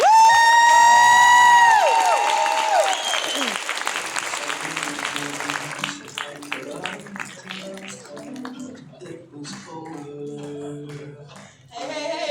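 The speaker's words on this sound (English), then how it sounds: "Give them a round of applause." Audience applause and cheering, emerging after a loud sustained tonal sound at the start, then scattered clapping with shouts and voices mixed in, moderately loud and roomy.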